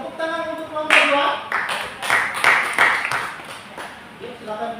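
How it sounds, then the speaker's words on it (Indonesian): Classmates in a school classroom give a student group a short burst of scattered hand claps, uneven and fairly close, with speech around the clapping. "Tepuk tangan untuk kelompok 2."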